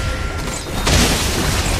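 A turret in a video game is destroyed with a loud, close crashing boom that swells midway and then settles into a rumbling tail, all within a brief burst.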